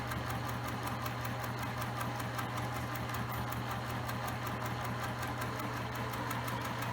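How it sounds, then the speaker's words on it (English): A sewing machine stitches fabric for a scrunchie, a steady fast mechanical whir with a rapid regular needle rhythm, running continuously at moderate level. "I'm going to start to sew. Back stitch. Continue sewing all the way."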